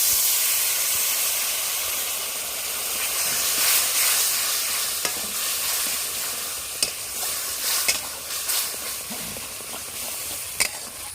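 Water added to a frying spice paste for village-style potol chingri sets off a loud, steady sizzle and steamy hiss, close up, with a few light stirring clicks and no talking.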